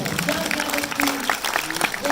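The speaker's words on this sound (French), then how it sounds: "Édouard de Messine, on peut l'applaudir." A cinema audience applauds the film producer Édouard de Messine at a premiere screening in Montpellier: steady clapping from a crowd, with a voice speaking over it.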